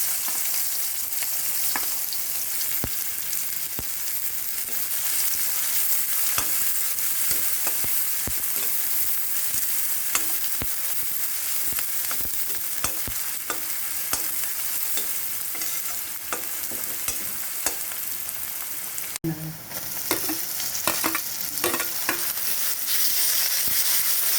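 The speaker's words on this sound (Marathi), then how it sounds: "आपण यात आता कांदा परतून घेऊ" Chopped onions sautéing in a pan for egg biryani, a steady close sizzle running throughout with frequent scrapes and clicks of stirring, alone without voices.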